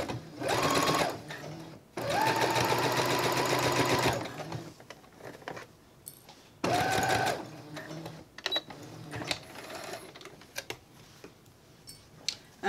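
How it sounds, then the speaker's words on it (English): Sewing machine running a long basting stitch to secure the ties on a hijab-friendly fabric face mask, with lowered tension; loud close bursts of rapid stitching, two long runs and a short one, separated by quieter handling clicks. "I'm just going to sew a basting strip stitch just to secure the ties here"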